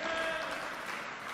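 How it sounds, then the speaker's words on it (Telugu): A Christian congregation at a worship service claps together in praise, a brief, steady burst of dense applause with no voices over it. "చప్పట్లు గట్టి కొట్టి దేవుని స్తుతి"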